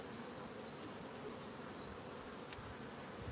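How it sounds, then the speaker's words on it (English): Honeybees buzz around a hive in an apiary, making a faint, dense, continuous hiss-like hum with no pauses and no voices. "Look at the bees, they're nice bees."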